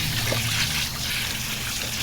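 Cool running water pours steadily over a tie-dyed T-shirt being rinsed outdoors, a continuous close trickling and splashing wash with no talking.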